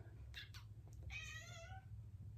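A house cat gives a single drawn-out meow close by, rising and then trailing off, over a steady low room hum.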